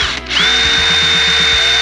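A power drill boring a vent hole into a plastic gas can, a sharp rising whine that settles into a steady high-pitched spin with a rhythmic chatter beneath, loud and close for under two seconds.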